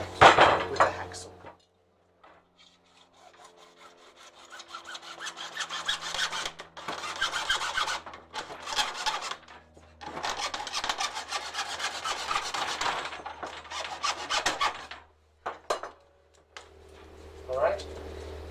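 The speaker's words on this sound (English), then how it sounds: "For that, I'm actually just going to cut it with a hacksaw." A hacksaw cuts through a part for an aquaponics solid lift outlet, with bursts of rasping back-and-forth strokes separated by short pauses, fairly close and moderately loud.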